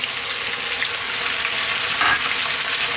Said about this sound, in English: Next up, let's drop in our onion